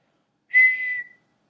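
A narrator imitates a boy whistling through the gap of missing front teeth: one short, thin, clear whistle lasting about half a second, alone against silence.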